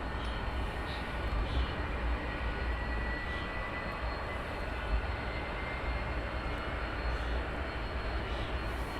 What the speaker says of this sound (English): You can hear the engines just whirling up on